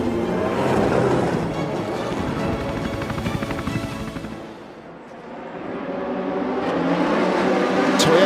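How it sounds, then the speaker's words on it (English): Race cars roll around Spa-Francorchamps on the formation lap before the 2019 WEC 6 Hours of Spa, a broad, steady roar that dips briefly mid-way and then swells again, with no voices. "We have started a formation lap for the 6 hours of Spa."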